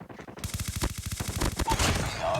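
Rapid automatic gunfire from a Type-25 rifle in a first-person shooter video game, a loud, dense burst of shots running almost continuously through the whole stretch, with no talk over it.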